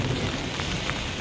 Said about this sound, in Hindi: ये देखो बारिश कितनी अच्छी लगी हुई है। छमछम बारिश है।